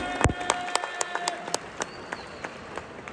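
An audience at a mall stage event in Abu Dhabi claps in unison, sharp separate claps in a regular beat that gradually slows and softens, with a faint crowd murmur behind.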